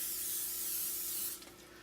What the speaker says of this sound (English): You can use a non-stick cooking spray like this.